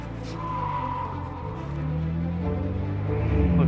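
A race car slides in oversteer on a track, tires squealing under a steady engine drone that builds toward the end, close and continuous.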